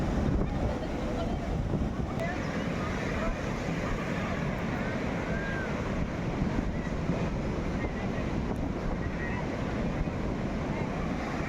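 Wind and surf on the seashore at Juhu Beach, Mumbai, where children play by the water: a steady, dense roar of waves and wind buffeting the microphone, loud and unbroken throughout.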